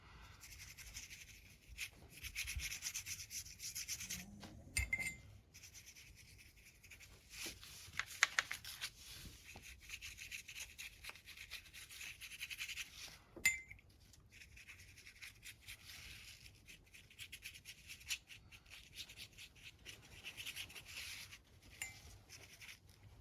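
Green ink being rubbed onto junk journal pages, a soft dry scuffing and brushing that comes and goes in short bursts with a few sharper taps, fairly quiet throughout with no talking.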